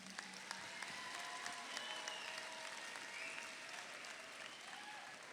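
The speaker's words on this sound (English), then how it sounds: "One more round of applause for them." Sustained applause from a high school graduation ceremony audience, steady and fairly far-off, filling the whole stretch with dense clapping and no talk over it.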